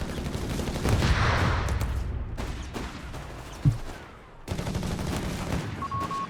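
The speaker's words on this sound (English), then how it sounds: "Pioneers now being met here with heavy automatic fire in the south." Heavy automatic gunfire crackles in bursts during a Company of Heroes battle between Wehrmacht and US forces, with rattling volleys, a sharp explosive thump midway and a brief lull before firing resumes.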